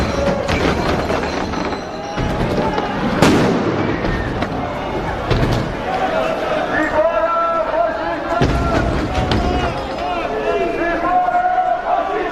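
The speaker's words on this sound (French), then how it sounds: "Il y a des pétards qui sont jetés aussi." Firecrackers are thrown and burst at a street protest: sharp bangs go off at irregular intervals over a dense murmur of crowd noise and shouting, with a voice talking close by.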